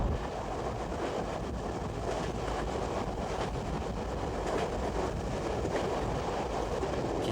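A passenger train crosses the Yellow River in China, its steady rumbling rail noise running continuously at low level with faint clickety-clack, and no voices present.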